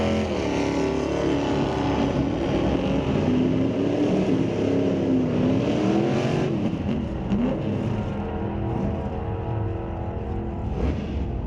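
A 1967 Chevrolet Camaro makes a solo drag racing run, its engine roaring loud and sustained as it accelerates through gears, then fading slightly toward the end.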